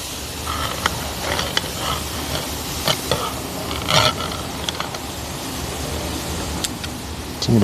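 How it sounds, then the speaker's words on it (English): Steady sizzling of chicken breasts on a hot outdoor grill, a continuous crackling hiss with occasional louder pops and scrapes, close up. "That sizzle."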